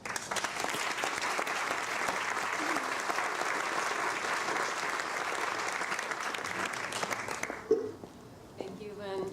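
An audience at a church annual meeting applauds to welcome a speaker, sustained even clapping at moderate distance that stops near the end as a voice begins.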